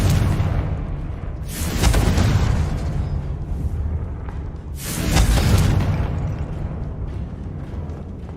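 Two deep booming explosions from the Confringo fire spell in Hogwarts Legacy, each a loud burst with rumbling decay, spaced a few seconds apart over a low continuous game background.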